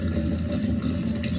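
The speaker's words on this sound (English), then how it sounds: "I'll open this little tap" Water trickling steadily out of a small tap on a reef aquarium container, a continuous close, moderately loud flow with no pauses.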